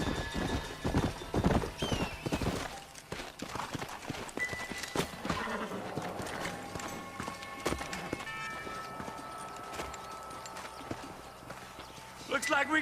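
Horse hooves clip-clop in Red Dead Redemption, a steady clatter of several horses up close at first, then fading as game music and a distant whinny take over; voices talk over parts of it.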